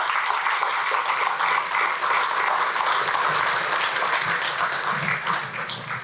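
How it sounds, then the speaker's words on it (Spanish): Congregation at a church service applauding the Lord, a dense, steady wash of clapping from many hands filling the room for about six seconds before tapering slightly at the end. "Démosle un aplauso al Señor"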